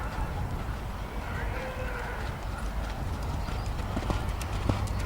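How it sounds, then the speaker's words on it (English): A thoroughbred dressage horse in extended canter, its hoofbeats drumming in a steady three-beat rhythm at moderate distance over a continuous background hum, with a few louder thuds near the end. "Big, scopy, extended canter."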